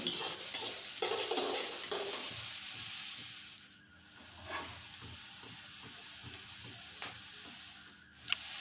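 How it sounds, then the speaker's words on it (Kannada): Onion and tomato frying in a pan for paneer butter masala, a loud sizzle and hiss with scraping stirs, easing off midway before picking back up, close and with no speech. "ಈರುಳ್ಳಿ ಮತ್ತು ಟೊಮೆಟೊ ಎರಡನ್ನೂ ಫ್ರೈ ಮಾಡ್ಕೊಳ್ಳಿ."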